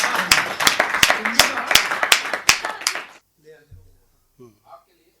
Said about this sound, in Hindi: एक बार बहुत ज़ोरदार तालियां बजाकर उन्हें करिए